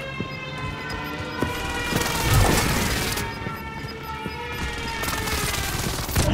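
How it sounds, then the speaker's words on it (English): Enemy precision airstrike in a video game, a rolling barrage of heavy explosions and crashing booms layered over a sustained siren-like tone, swelling loudest midway and continuing steadily to the end. "Enemy precision airstrike."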